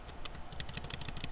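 Keys on a computer keyboard are pressed in a quick run of light, close clicks, roughly a dozen taps in steady succession with no voice over them.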